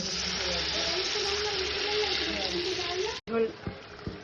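Water poured into a pan of oil-released spice paste with whole cumin, a steady loud sizzle and hiss that cuts off abruptly, followed by a few stirring knocks.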